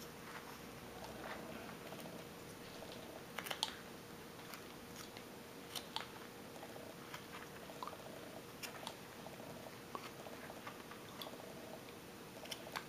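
Knife blade cutting into wood along the hem of a carved folk art figure, a quiet, steady scraping and rasping with small clicks and taps scattered throughout, close and soft.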